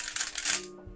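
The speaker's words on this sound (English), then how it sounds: "Unlike the RS3M, which sounds like this." A MoYu RS3M 3x3 speedcube being turned fast, giving a loud, close burst of crisp plastic clacks that stops abruptly after under a second.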